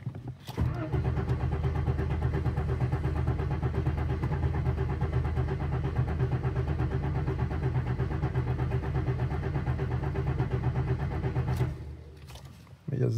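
A Citroën XM 3.0 cranks steadily for about eleven seconds, the starter churning in a fast regular rhythm without the engine catching, then stops, with a brief clunk at the end.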